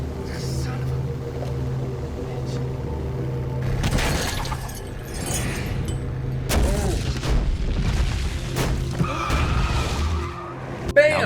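A log truck smashes into a car in a horror movie crash scene: skidding, heavy booming impacts and shattering glass over a low rumble, loud and continuous with chaotic bursts throughout, under faint voices.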